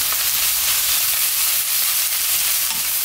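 Fine chili powder stir-fried in oil in a pan for jjamppong, a loud continuous sizzle and hiss with faint scraping of the stirring, close by and without talk.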